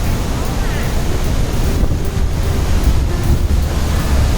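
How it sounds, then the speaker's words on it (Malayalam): Cold morning wind buffets the microphone at the Rhine Falls, a loud, constant roar blended with rushing water, with no clear voices. "രാവിലെ ഈ തണുപ്പത്ത് കാറ്റുമുണ്ട്"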